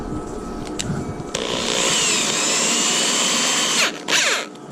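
A power drill with a small drill bit whines steadily at high speed for a few seconds, briefly dips, then revs again before stopping.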